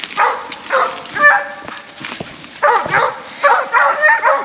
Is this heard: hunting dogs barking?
yes